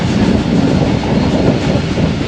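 A container train hauled by a KCR GMU 30 locomotive passes close by on a cold, foggy Punjab line, a loud, continuous rumble of wagons with rhythmic wheel clatter.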